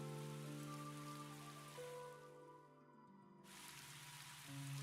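Steady rain falls in the video game Tales of Graces F, a soft, even hiss of drops under sustained background music whose tones shift, dipping briefly before the wash returns.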